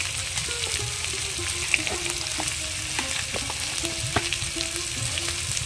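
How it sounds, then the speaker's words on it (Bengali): Mashed green banana paste seasoned with turmeric and salt frying in a pan, a steady close sizzle with occasional stirring scrapes throughout. "এটাকে ভালো করে ভেজে নেব"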